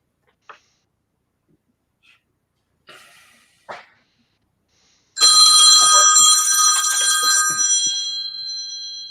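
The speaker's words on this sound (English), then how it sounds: "That sounds like my cell phone," A cell phone rings loudly and continuously, a bright electronic telephone-bell trill that starts abruptly and carries on steadily, preceded by a few faint clicks and small bumps in an otherwise quiet room.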